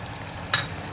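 Rogan Josh masala with coriander and spices frying in a pan for Kashmiri mutton curry, a soft steady sizzle with one brief scrape or clink of stirring, close and quiet.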